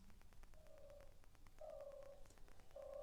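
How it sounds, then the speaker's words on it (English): Recorded turtle doves coo softly in a few repeated, rounded calls, faint and fairly distant, with short pauses between the phrases. "I hear the turtle doves"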